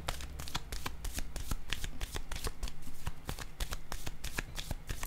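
Tarot cards being shuffled by hand in a quick, steady run of crisp riffling flicks and snaps, close and continuous for several seconds with no talking.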